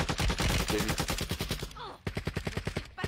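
Rapid, regular shots in a shooter video game where a sniper rifle is in play, loud and close in a steady rhythm, with a brief break partway through.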